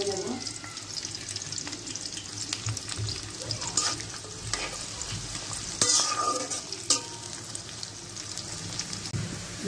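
Chopped onion frying in a pan, a steady close sizzle like light rain with occasional stirring scrapes and clinks running throughout.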